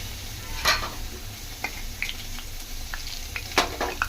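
Mustard and fenugreek seeds fry in hot oil with cumin and a piece of cinnamon, giving a steady low sizzle broken by a few sharp crackling pops close by, with no voices.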